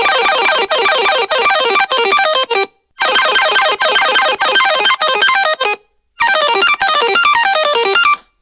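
A loud, bright synth arpeggiator in an electronic remix, fast cascading note patterns whose rate shifts under automation, broken by short gaps of silence.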